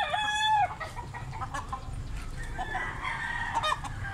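A rooster crows at a rural farm in Carbon, Cebu, with a clear crow at the start and clucking and fowl calls following at a moderate distance, with no talk.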